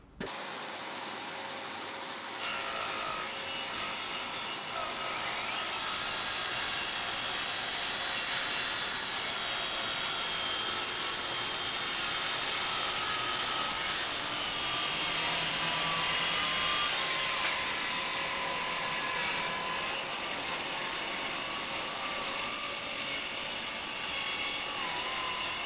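Parkside cordless circular saw from Lidl cutting 12mm plywood, a loud, steady high-pitched whine with rasping blade noise that holds for the whole cut, close up with no talking.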